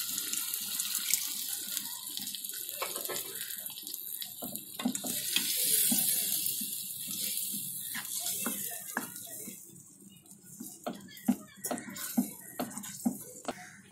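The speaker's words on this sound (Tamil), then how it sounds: "புளி தண்ணி ஊற்றிருக்கோம். இன்னும் கொஞ்சம் தண்ணி ஊற்றணும்." Tamarind water is poured into a pot of pirandai gravy in a kitchen, a close, splashy liquid pour that swells and then tapers into scattered drips and light clinks of utensils.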